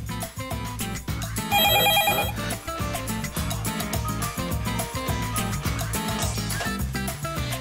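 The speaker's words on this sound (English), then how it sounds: "It's ringing." A telephone rings on a radio prank call, its bright ring rising briefly over a steady thumping music bed and then fading back under the beat.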